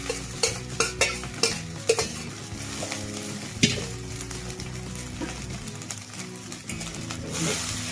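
Corn kernels fry in a pan for a Telangana-style dish, stirred with repeated scraping strokes over a steady sizzle, with music playing in the background.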